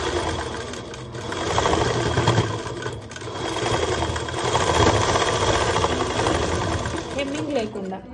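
Sewing machine running steadily while double-stitching around the armhole of a school uniform skirt, a continuous loud mechanical whir with slight speed swells and brief pauses, with no talking.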